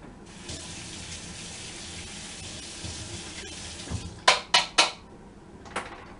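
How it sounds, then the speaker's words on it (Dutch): Elderberry juice drips through a strainer during home preserving, a soft steady trickle followed by several sharp, close clinks and splashes near the end, with no talking. "Laatste beetje druppelt er nog doorheen."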